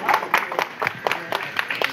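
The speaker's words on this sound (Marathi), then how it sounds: "आमी सगळ्यांक टाळ्या वाजोवन अभिनंदन करूया" A seated audience at a Goan community event claps for a competition winner in a short burst of scattered, moderately loud hand claps.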